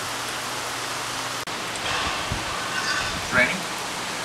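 Steady rain hisses throughout at night, a dense even patter with faint drops, while a voice speaks softly underneath.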